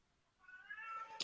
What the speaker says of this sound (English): if you guys can hear my cat in the background too